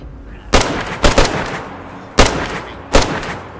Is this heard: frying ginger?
no